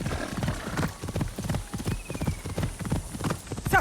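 Horse hooves clip-clopping at a steady trot in Assassin's Creed Shadows, a rhythmic run of close hoofbeats with a faint whinny partway through.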